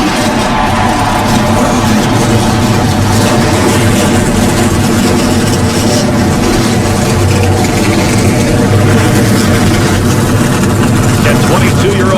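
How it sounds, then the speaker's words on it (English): A field of NASCAR stock car engines starts up and idles at the 2008 Food City 500, producing a steady, loud, low roar throughout with crowd noise. "Gentlemen, start your engines!"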